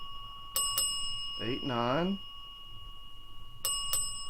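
A bell rings sharply twice near the start and twice again near the end, each strike clear and close with a short ringing tail, while a man counts aloud between the strikes.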